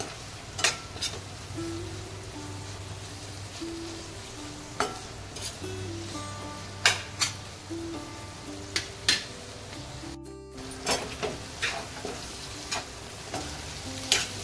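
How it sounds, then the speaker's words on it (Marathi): Steady frying sizzle in a pan with repeated sharp scrapes and clinks of a spoon stirring, close and moderately loud, no talking. "चांगलं परतवून घ्यायचं"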